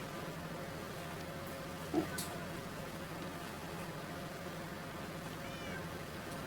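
Cats meowing in the Minecraft video game, one short faint meow set against a steady hiss of game background noise.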